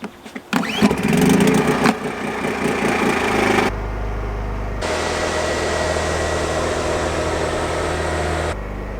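A portable generator starts with a rough burst and settles into a steady droning hum while it charges EG4 batteries, loud and close, broken by a short drop partway through.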